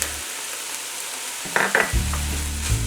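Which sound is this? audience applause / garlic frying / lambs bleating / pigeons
garlic frying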